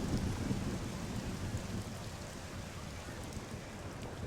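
Steady rain with a low rumble of thunder in the Caesar IV city-building game, a dense even hiss that runs unbroken for several seconds at moderate loudness with no voices.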